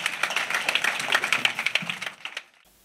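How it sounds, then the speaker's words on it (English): A church congregation claps together during a salvation and healing weekend service in Bingerville: a dense, steady patter of many hands for about two seconds, which then thins out and fades to near silence. "Clap for Jesus."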